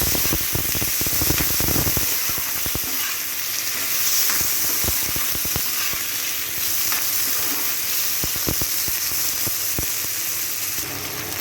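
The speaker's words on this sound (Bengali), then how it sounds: "সবজিগুলো এই তেলটার মধ্যে একটু ভেজে নেবে" Vegetables frying in hot oil for a fish curry, a loud, steady close-up sizzle with crackling spatters and occasional stirring scrapes throughout.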